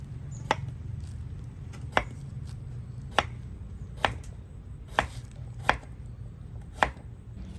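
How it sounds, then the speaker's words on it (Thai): A knife slices raw banana that has been soaking in salt water into rounds, striking the board in seven or eight crisp, close chops at an uneven, unhurried pace over a faint background hum. "เอากล้วยที่แช่น้ำไว้ครับมาหั่นเป็นแว่น"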